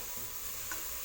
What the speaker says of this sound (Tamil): சேர்த்துட்டு இதை நல்லா மிக்ஸ் பண்ணி விடுங்க.